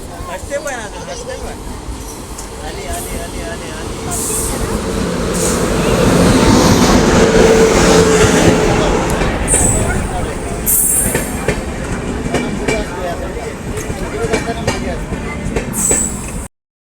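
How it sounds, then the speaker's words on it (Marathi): Jan Shatabdi express train at a station on the Malvan to Mumbai route, with a steady rumbling roar that swells in the middle, faint wheel squeals and clatter, and voices of people nearby. "जनशताब्दी ट्रेन खरंच छान आहे टाइम टू टाईम येते"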